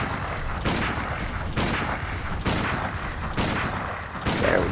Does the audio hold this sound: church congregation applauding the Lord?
no